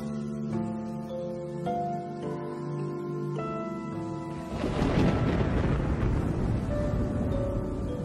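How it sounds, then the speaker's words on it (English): A thunderstorm over the Kalahari: a sustained, heavy rumbling roar swells in partway through, under a melodic music bed that plays throughout. "a storm begins to brew."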